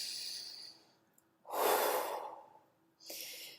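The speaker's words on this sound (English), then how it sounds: "So deep breath in and out. A couple of deep breaths for me." Deep breaths in and out during a guided meditation: two soft breathy passes, the first fuller and longer, the second shorter, close and quiet, with no talking.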